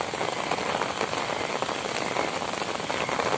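Steady rain falls in Swabi, a dense, even hiss of drops striking surfaces close by with no pauses.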